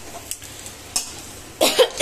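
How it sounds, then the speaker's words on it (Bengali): Short bursts of coughing close by while upma cooks, with semolina being added and stirred in a pan, a few sharp coughs over a faint sizzle and scrape. "আমার কাশি হচ্ছে"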